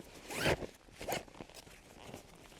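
A zipper is pulled along a compartment of a U-WIN PRO 125-litre duffel bag, with two or three quick rasping strokes close by and no talk.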